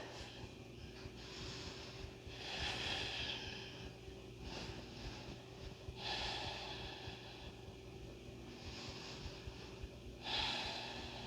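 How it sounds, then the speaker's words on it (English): Slow, audible breaths rise and fall in a yoga class, roughly four soft inhale-exhale swells spread evenly over several seconds, close and quiet against a faint hum. "Breathing."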